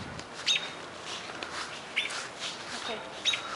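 A baby bird that fell from its nest gives three faint, brief, high chirps spaced over a few seconds while it is being fed, against a soft background hiss.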